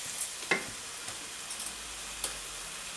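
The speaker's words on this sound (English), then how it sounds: "Keep stirring that for a while." Vindaloo curry with beef sizzles softly in a pan while being stirred, a quiet steady frying hiss punctuated by a few light scraping clicks of the utensil.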